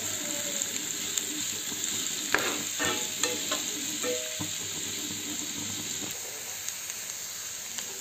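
Sliced onions sizzle and fry in a pan for gongura soya curry, with a spoon stirring and scraping through them in a steady crackling hiss, close and moderately loud, with clearer clicks of the spoon at intervals.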